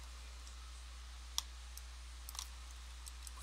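Closet panels snap together during assembly: one sharp click stands out, followed by a few fainter small clicks, all over a steady low hum in an otherwise quiet room.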